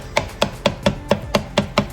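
Eggs cooking in a pan are chopped up with a utensil, giving eight evenly spaced sharp knocks against the pan, close and fairly loud, with no talking.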